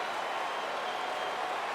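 A faint, steady roar of a baseball stadium crowd in MLB 15 The Show as fans rise for a 3-2 count in a Marlins at Braves game, a continuous distant wash of cheering without distinct claps or voices.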